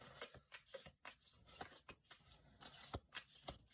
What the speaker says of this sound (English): Okay, I'm gonna do one more little shuffle.